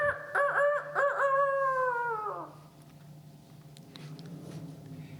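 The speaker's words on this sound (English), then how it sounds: "And immediately the rooster crowed." A rooster crows loudly and close, one long drawn-out call of several rising notes that trails off, followed by quieter background noise.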